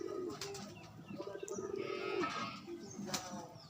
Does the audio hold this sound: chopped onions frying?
no